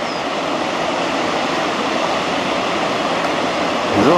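Water pouring over a weir in the Partnach gorge, a loud, dense, continuous rushing roar heard close, steady throughout with a faint brief tonal sound near the end.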